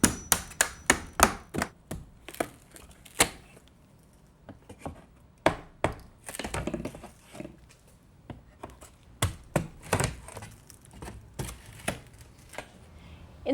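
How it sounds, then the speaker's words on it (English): Repeated sharp metallic taps and knocks come in bursts, with irregular pauses between clusters, like a hammer striking a punch close by, driving pins out of door hinges. "a hammer and either a nail punch or a screwdriver to remove these pins from the hinges"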